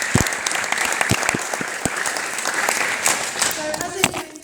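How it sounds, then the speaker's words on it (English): An audience at a company's 25th anniversary celebration applauds steadily, a dense sustained clapping filling the room throughout. "I'm going to ask you just to clap a moment more"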